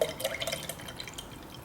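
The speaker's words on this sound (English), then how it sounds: "So, pouring it in." Strawberry lemonade is poured into a large glass container, making a soft, steady splashing and trickling that stays close and fairly quiet throughout.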